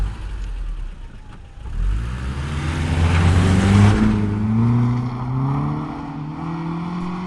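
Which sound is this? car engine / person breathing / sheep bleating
car engine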